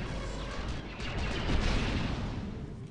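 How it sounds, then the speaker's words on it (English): Cluster bomb explosions in the game Star Wars Galaxies make a rumbling cluster of overlapping blasts that swells and peaks midway before easing off, fairly loud with no speech. "Hit that one with a cluster bomb."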